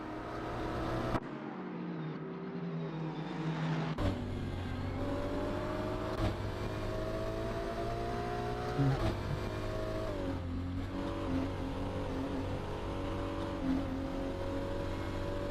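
Race cars lapping a circuit during the last lap of a Fuji Intercontinental GT Challenge round, a steady engine drone with rising revs and gear-shift drops, heard from inside or near a car at moderate loudness.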